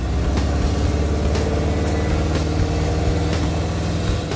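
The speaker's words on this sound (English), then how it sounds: "I'll be driving by engine noise from now on." A 1967 Pontiac Firebird's engine drones steadily and loudly while the car is driven, with a continuous low rumble and no pauses throughout.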